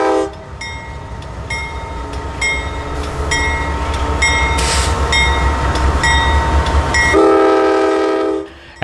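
Norfolk Southern grain train G302 rolls past near a crossing, a steady rumble of cars with repeated loud horn blasts sounding throughout before the noise drops off at the end.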